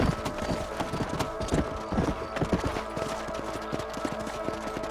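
Horse hooves clip-clop in steady rhythm in the video game Red Dead Redemption, close and clear with faint background ambience.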